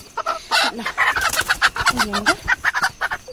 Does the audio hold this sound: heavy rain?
no